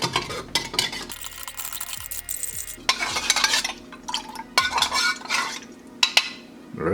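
A spoon stirs an apple jam drink mixed with water from a Russian military ration, clinking and scraping against the container in quick, uneven strokes that are close and fairly loud, with no talk.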